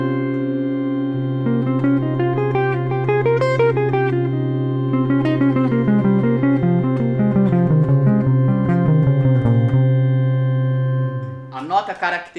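Guitar playing the Phrygian mode scale, single notes climbing and descending over a sustained low drone with reverb and echo, close and clear, ending with a brief strummed chord.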